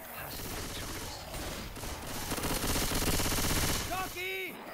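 Dense, rapid gunfire in the video game Left 4 Dead 2 rattles continuously at close range, mixed with game effects and a rising tonal chirp near the end.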